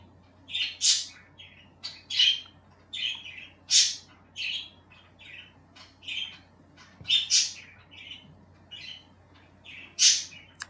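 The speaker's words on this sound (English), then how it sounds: "Sorry, my parakeet's so loud." A pet parakeet squawks loudly and sharply indoors, letting out a quick run of shrill calls about once a second with brief pauses, close to the microphone and with no talking.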